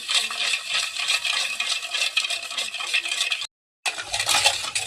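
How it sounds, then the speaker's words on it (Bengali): Cake batter for a homemade fruit cake being whisked by hand to dissolve a cup of sugar, a steady close scraping and clinking of utensil against bowl with one brief pause before it resumes. "এটা এবার ভালো করে মিক্সড করব যাতে চিনিটা গুলে যায়।"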